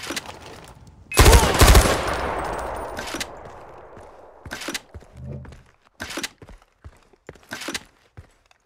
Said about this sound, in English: I can shoot all day!